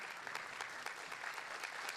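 Audience applause at a national Ocean Day ceremony in Busan follows a children's choir performance, a short burst of faint, distant clapping with a few louder claps standing out.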